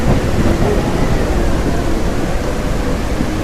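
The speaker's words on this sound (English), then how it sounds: "are the sounds the same as in the aisle? You're talking about the rain?" Steady rain pours with a low rumble of thunder in the video game Echoes of Extinction, a dense, loud, unbroken wash of noise with no voices.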